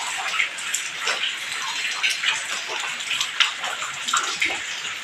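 Rain falls steadily, with a dense hiss and scattered patters and drips that continue throughout, moderately close. No one is speaking.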